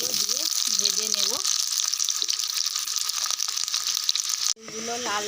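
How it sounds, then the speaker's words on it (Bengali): Potatoes fry in hot oil with a steady bright sizzle throughout, while a person speaks intermittently over the crackling, which dips briefly near the end before resuming. "তেলটাও এবার গরম হয়ে গেছে, এতে আলুগুলো দিয়ে ভেজে নেব।"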